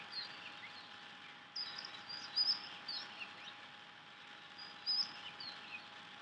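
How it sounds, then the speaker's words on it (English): Birds chirp in scattered, thin bursts outdoors over a quiet background with a faint steady hum, the calls soft and somewhat distant, clustering in a few short phrases with pauses between. "The birds are sounding like it's dawn or something."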